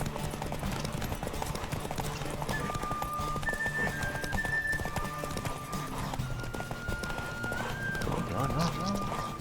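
Rapid, steady galloping hoofbeats of a horse in the video game The Witcher 3, with a constant whooshing rush beneath, and a few sustained tones and voices mixed in.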